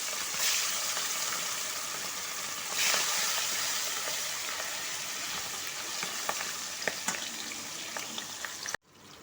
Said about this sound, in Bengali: এরপর আমি মাছগুলোকে একটা করে ভেজে নেব।